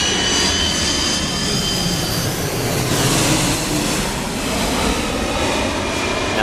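An airliner landing at Atlanta Hartsfield airport, giving a loud, continuous jet engine roar that stays strong and close throughout, with no talk over it.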